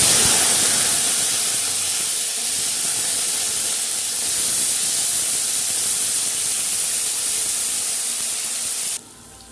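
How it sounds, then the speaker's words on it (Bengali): Vegetables—beans, peas, onion, tomato and green chili—frying in oil in a wok, a loud, close, continuous bright hiss and sizzle that dips slightly near the end, with no talking. "এরপর সমস্ত সবজিগুলো ভেজে নেব।"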